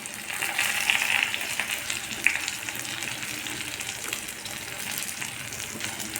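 Potato and aubergine pieces frying in a pan with salt and turmeric, a continuous close sizzle with a few brief crackles, no voices.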